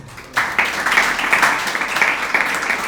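An audience at a spoken moral-teaching talk bursts into applause, a sudden onset of steady, fairly loud clapping from many hands that continues evenly to the end.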